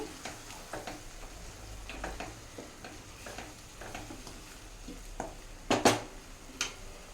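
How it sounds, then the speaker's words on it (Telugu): Puree from three medium tomatoes stirred and sizzling in a pan, a low fry hiss beneath scattered scrapes and clinks of a spoon, with a few sharper metallic knocks near the end. "ఇక్కడ నేను త్రీ టమాటోస్ అండి ప్యూరీ చేసేసుకున్నాను మీడియం సైజ్ టమాటోస్ అవి ఇప్పుడు వేసేస్తున్నాను ఇక్కడ ఇది ఇప్పుడు మిక్స్ చేద్దాం"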